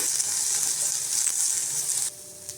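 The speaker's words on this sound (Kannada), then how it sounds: "ಸ್ವಲ್ಪ ಫ್ರೈ ಆಗಲಿ ಇದು ಈರುಳ್ಳಿ ಜೊತೆನೇ 2 ಹಸಿಮೆಣಸಿನ್ಕಾಯಿ ಉದ್ದಕ್ಕೆ ಕಟ್ ಮಾಡಿ ಹಾಕ್ಕೊಂಡಿದ್ದೀನಿ" Sliced onion and lengthwise-cut green chilies fry in a pan as the base for butter chicken, a bright, steady hiss of sizzling oil that drops off abruptly near the end, with a small tap after.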